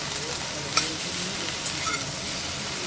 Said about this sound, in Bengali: খুন্তি দিয়ে ভালো মতন নাড়িয়ে নেব, উপর থেকে নিচে পর্যন্ত ভালোভাবে নাড়িয়ে নিতে হবে